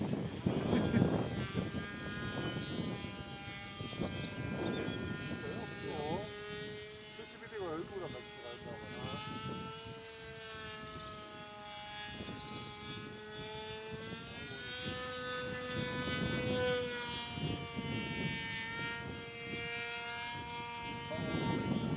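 A Webra 20 engine on a model pylon racer plane flying at a model airfield, a whining drone whose pitch rises and falls as the plane passes, heard at a distance under people talking.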